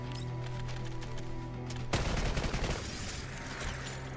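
Gunfire from a character shooting in the Girls' Frontline mobile game, a sudden loud burst of rapid shots erupting midway over a steady game music hum and carrying on as dense crackling fire to the end.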